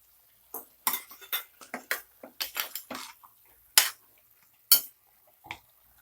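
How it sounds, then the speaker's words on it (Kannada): A spoon stirring potatoes and brinjal in a metal pot, close irregular scrapes and clanks against the pot with a couple of sharper knocks. "ಮಿಕ್ಸ್ ಮಾಡ್ಕೊಳ್ಳಿ."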